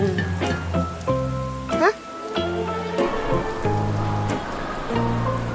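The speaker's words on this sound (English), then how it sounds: "A sudden rain makes Peppa grab her colorful umbrella." Steady rainfall patters in a Peppa Pig cartoon scene, running continuously under a bright musical score.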